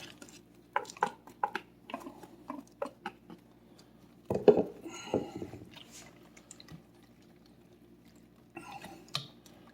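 Eggs and cheese being mixed for a crustless quiche, with irregular clicks and scrapes of a utensil against a bowl, sparse taps and one louder stretch of rattling stirring near the middle, close and fairly quiet.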